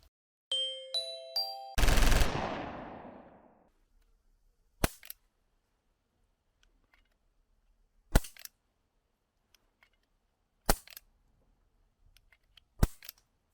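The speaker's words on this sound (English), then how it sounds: "let's put this air pistol over the chronograph to check out its velocity and power with all 3 of these pellets" Umarex SPA Expert 4.5 mm air pistol shooting pellets over a chronograph indoors, four sharp separate cracks spaced a few seconds apart in a quiet room, after a brief electronic beep and a ringing metallic clang at the start.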